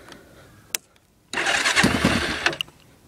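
A small engine with its muffler cut off and no spark arrestor starts up loud and harsh, running with a raspy, aggressive roar after a few quiet ticks and a brief pop.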